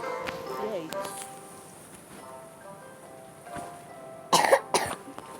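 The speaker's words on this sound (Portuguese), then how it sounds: "tô tossindo igual doido" A person coughs in two sharp bursts near the end, following stretches of quiet talk with background game sounds and possible rain noise.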